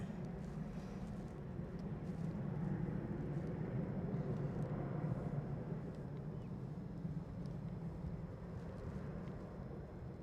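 Qatar Airways Boeing Dreamliner airliner at Edinburgh airport, a steady low engine roar that holds loud and even for the whole stretch, with some wind buffeting and no speech.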